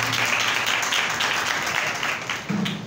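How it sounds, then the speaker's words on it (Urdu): A church congregation at a Christian service breaks into loud applause for the Lord, dense sustained clapping from many hands that carries on steadily before thinning slightly near the end. "زوردار تالیاں خداوند کے لیے بجائیں"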